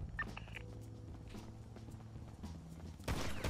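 Gunfire in a GTA NoPixel role-play game session, a broadband burst near the end after a stretch of steady ambient game sound and music, loud and close.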